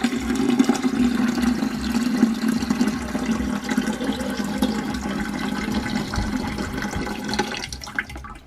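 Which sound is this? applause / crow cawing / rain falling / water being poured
water being poured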